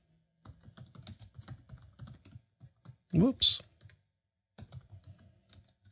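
Quiet, steady typing on a computer keyboard runs throughout as a light patter of key taps, briefly interrupted by a short spoken exclamation in the middle.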